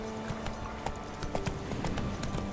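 A horse gallops along a path in The Witcher 3, its hooves making a quick, steady clip-clop at moderate volume over faint game ambience.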